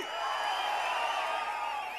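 A large crowd at a Tamil Nadu political election rally roars and cheers steadily, a broad continuous wash of voices and whoops heard from a distance.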